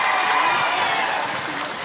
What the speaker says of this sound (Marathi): त्या माणसासाठी एक टाळ्या सगळ्यांसाठी टाळ्या वाजवा